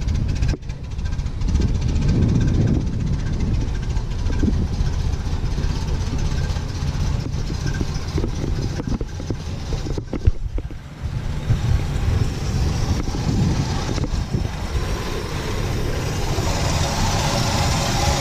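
A 1966 Chevy II Nova engine idles after sitting unused for years, a loud, close, steady rumble with a slightly uneven, rough pulse and a brief dip partway through, with no talking.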